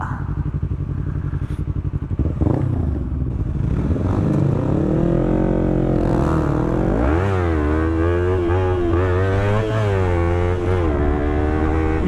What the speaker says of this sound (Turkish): Hemen kesiciye giriyor motor.